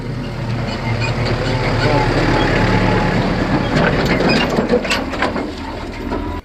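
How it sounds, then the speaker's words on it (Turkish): A heavy engine rumbles steadily at close range, with low mechanical drone and clatter, while people talk over it. "Traktörümüz geliyor."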